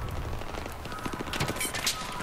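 Rapid gunfire from a Battlefield 3 firefight, with crackling shots from several weapons layered over a dense, steady battle din at close to middle distance.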